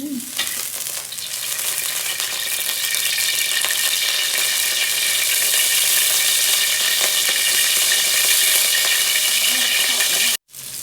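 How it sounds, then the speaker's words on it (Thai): Meat stir-fried in a hot pan for Northern Thai khua, a loud steady sizzle with scraping stirring close by, running without talk and briefly cutting out near the end. "เดี๋ยวเราจะมาคั่วจิ้นกันเจ้า"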